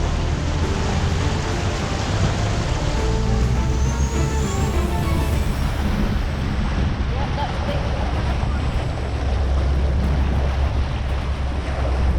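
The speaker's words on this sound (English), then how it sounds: "You can hear the engine note change as the exhaust submerges." Toyota Land Cruiser 105 Series pushing through a deep river crossing, its engine a loud, constant low drone mixed with rushing water and sloshing, steady and dense for the whole stretch.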